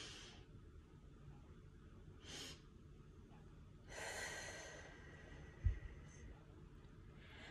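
Slow, deep breathing as an exercise: soft, airy inhales repeat at intervals with quiet pauses for held breath between them, close to the microphone.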